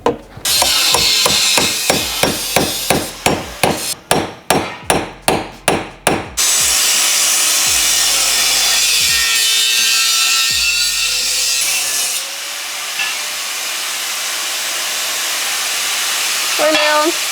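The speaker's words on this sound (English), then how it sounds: "I'm using a hammer and chisel to separate the floor pan and the support beam." A hammer drives a chisel against the steel floor pan and support beam of a BMW E28 car, about a dozen sharp metallic strikes in a quick regular series, followed by a long stretch of hissy workshop background.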